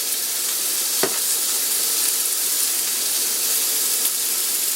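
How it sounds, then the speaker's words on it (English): Chicken breast pieces browning in a cast iron pan give a steady, close sizzle and hiss, with a single sharp tap near the start and no talking. "I'm just going to brown them in the pan"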